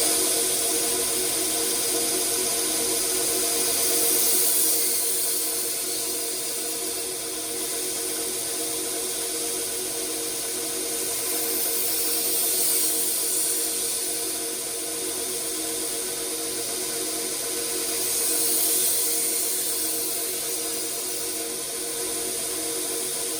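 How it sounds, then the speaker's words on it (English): A knife is sharpened on a belt grinder fitted with a 120 grit ceramic belt, giving a steady, loud grinding whine with a hissing edge that swells slightly in several repeated passes. "I'm going to sharpen the other 2 knives just in real time so you can see how fast they are"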